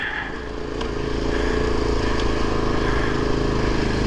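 A dirt bike labours up a rocky expert trail section of the Idaho Backcountry Discovery Route, its engine droning loud and close and rising slightly, with faint clatter over the rough ground.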